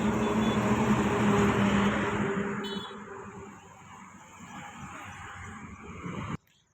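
A Swaraj tractor engine runs with a steady, loud rumble that gradually fades to a quieter idle before cutting off abruptly near the end.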